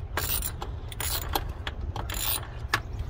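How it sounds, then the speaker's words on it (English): Ratcheting on the bolts of a BMW E46 power steering pump, a run of quick close mechanical clicks in bursts with short pauses, alone without talk. "I'll loosen the bolts."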